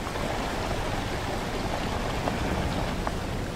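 A waterfall rushes steadily in the video game Journey to the Savage Planet, a dense, even roar of falling water that holds at the same level throughout with no talking.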